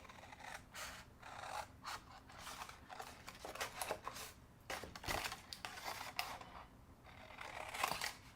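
Scissors cutting through a cardboard candy box, heard as close, uneven snips and rasping crunches of card in bursts, fairly quiet throughout.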